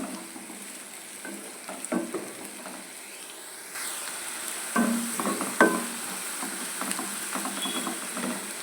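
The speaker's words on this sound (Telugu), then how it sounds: "మనం గుడ్డు కైమా చేసేటప్పుడు మనకి ఉల్లిపాయలు అనేవి నోటికి తగలకుండా బాగా వేగిపోవాలి" Onions frying in a pan until brown for an egg keema dish, a steady close sizzle with occasional stirring scrapes and clinks, no voices.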